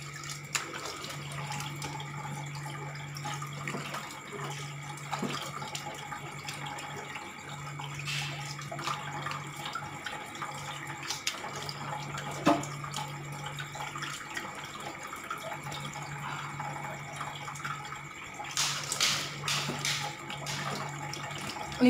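A tap runs steadily into a sink while the face is washed, a quiet continuous stream with faint splashing and occasional louder bursts of water over about twenty seconds.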